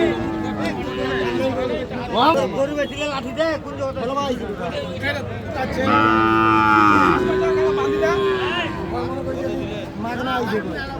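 A cow lets out a long, loud moo amid busy crowd chatter and overlapping voices at a bustling cattle market selling Friesian and crossbred bull calves.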